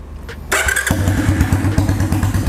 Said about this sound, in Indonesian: suara knalpot pendek free flow, suaranya tuh enak banget, dentumannya tuh dapet